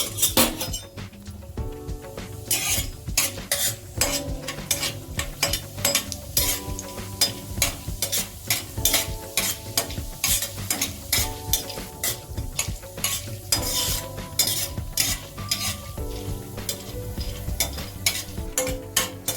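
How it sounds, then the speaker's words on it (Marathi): Chana dal roasts in a little oil in a metal pan, with a continuous sizzle under busy, rhythmic stirring as the spoon scrapes and clinks against the pan again and again, close and fairly loud without talk. "थोडंसं तेल पहिले आपण डाळ भाजून घेऊया"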